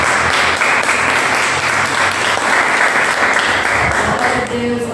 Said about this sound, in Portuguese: Vamos louvar o Senhor com as palmas